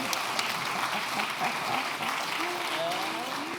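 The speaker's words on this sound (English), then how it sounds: "Before you pitch, applause once again." Sustained audience applause at a start-up award ceremony at a circular economy festival, a steady wash of clapping at moderate level with some voices mixed in underneath.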